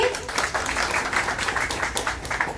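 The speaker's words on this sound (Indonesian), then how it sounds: "Tepuk tangan lagi" Audience applause at a Jakarta regional council commission session, moderately loud, with individual claps pulsing through a continuous patter and some speech underneath.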